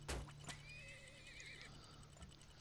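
A horse whinnies in the oil-drilling game Turmoil, a wavering high neigh over soft clip-clop hoofbeats, fairly faint with no talk.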